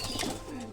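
A domestic pigeon kept at a house gives a brief, soft coo, faint and close, with no other sounds around it.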